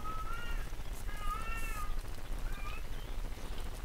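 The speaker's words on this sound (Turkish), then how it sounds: "Hey, bu bir kedi." A video game cat meows three times, thin drawn-out cries with gaps between them, clear over a low steady background hum and faint noise.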